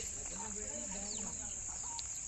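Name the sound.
chickens clucking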